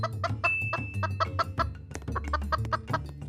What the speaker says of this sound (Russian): при рубке дерева куриным топором тот будет воспроизводить звуки кудахтанья